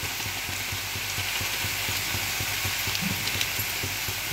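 Flat beans and potatoes fry in a pan with salt and turmeric, giving a steady, close hiss and crackle with faint rhythmic ticks throughout.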